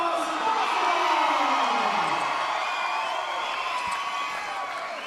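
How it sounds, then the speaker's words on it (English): A crowd at a high school boys' basketball game roars and cheers loudly in a packed gym, a sustained swell of voices that slowly eases off. "as the crowd erupts"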